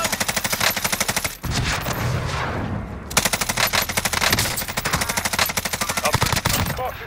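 Rapid automatic gunfire from the Warzone video game, long fast bursts with a short pause, loud and dense, with a brief stretch of other game noise between volleys.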